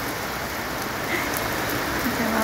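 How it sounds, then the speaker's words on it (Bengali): Rain pours steadily at night during a summer storm, a dense even hiss of drops on surfaces, close and continuous without talk. "বৃষ্টিটা হচ্ছে, ভালোই লাগছে।"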